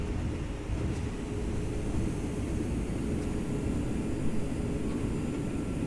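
Thrust reversers on a Toliss A319 airliner in the X-Plane 11 simulator roar in a broad, steady rush of engine noise during landing rollout, with no talking.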